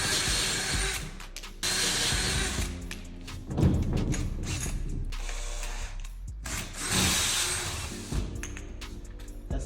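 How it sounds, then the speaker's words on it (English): Hole saw on a power drill cutting through pipe during a house renovation, a loud steady grinding whine that surges and dips in bursts with no talk. "Now, I have some hole saws that I use to cut pipes."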